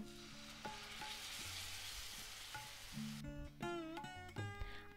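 Jackfruit curry cooking on low heat in a pan with a paste of coriander, cumin, black pepper and whole garam masala, a soft steady sizzle under faint background music and tones, close but quiet.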